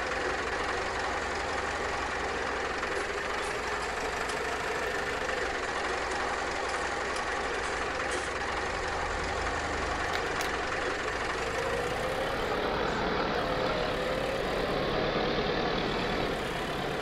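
A tractor engine running steadily while haying, a continuous low rumbling drone with a mid-range mechanical rattle, close and unbroken, shifting slightly in tone near the end.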